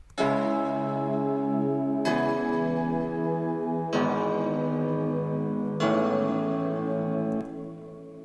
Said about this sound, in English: These chords are played inside a piano from Nexus and inside a grand piano from Kontakt.